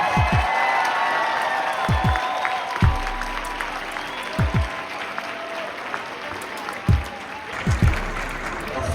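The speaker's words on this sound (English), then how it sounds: "can we give our children a round of applause?" Round of applause from a church audience at Enon Tabernacle Baptist Church, steady clapping and cheering filling the space, with loud close thumps and whoops breaking through.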